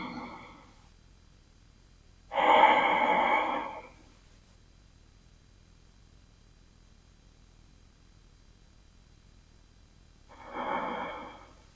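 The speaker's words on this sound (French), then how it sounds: "Pour 3 profondes respirations." Slow, deep breaths drawn during a forward-folding yoga stretch: a long, soft breathy exhale, a faint one at the start and another gentle breath near the end, with quiet pauses between.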